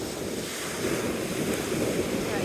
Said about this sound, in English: let these waves pass